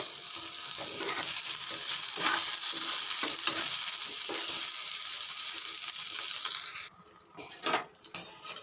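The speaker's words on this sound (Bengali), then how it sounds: "আলু ভাজা হচ্ছে" Potatoes fry in a pan with a steady, bright sizzle of hot oil that runs for about seven seconds, then drops abruptly, leaving a few clinks and stirring scrapes.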